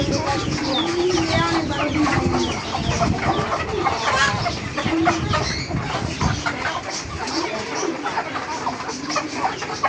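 Chickens cluck and chatter continuously at close range while being fed, a busy flock sound with a few louder squawks and some human voices mixed in.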